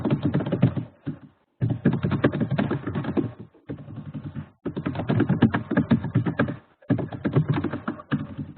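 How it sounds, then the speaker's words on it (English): Someone typing on a computer keyboard during an online call, a rapid clatter of keystrokes in bursts separated by short pauses, close and fairly loud, with no talking. "We've got someone typing there."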